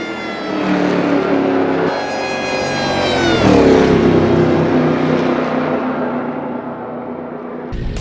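Engine note of a 1930s Mercedes race car from a Historic Sim Studios mod in Assetto Corsa at Donington Park, loud and close, rising through the revs in a strong accelerating pull, then shifting and easing off.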